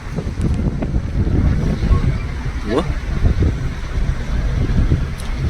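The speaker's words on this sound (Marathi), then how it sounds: "हा असा नजारा इथून बघा काय लाटा सुटले" Ocean waves roll and wash steadily onto Aare Ware beach in Ratnagiri, a constant broad surf rush mixed with wind buffeting the microphone, while someone talks over it.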